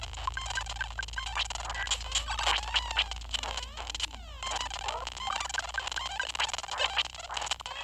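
Squeaky, quacking calls from the ducks in the video game Earthbound, repeated in quick bursts over a steady low game hum, with sweeping chirps in the middle.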